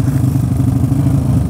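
A standard Yamaha Mio 110 cc scooter engine runs steadily close by, a loud, rough mid-low drone with a fast, even pulsing throb and some mechanical clatter, with no voices over it.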